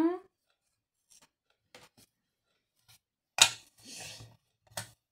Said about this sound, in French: Je prends un ciseau. Je coupe.